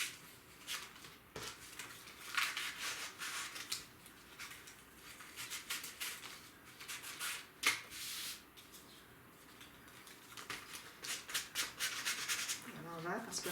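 Paper being sanded by hand along its edge, with soft irregular rubbing and scraping strokes that come in bursts and are fairly quiet, with a few faint rustles.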